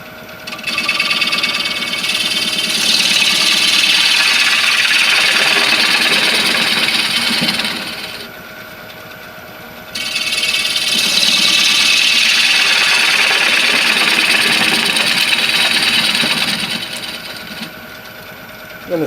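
A lathe turns a wooden spoon as a 5/8 bowl gouge cuts the spinning wood, giving a loud grinding, whirring roar in two long passes separated by a brief quieter spell of the motor running alone.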